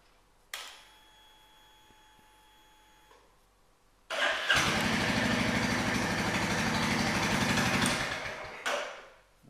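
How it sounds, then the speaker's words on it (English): A Royal Enfield Classic 350 motorcycle is switched on with a faint electrical whine, then its engine fires up and settles into a loud, steady, thumping idle close by for several seconds before cutting off. "So we now switch the bike off again, and if I fire her back up"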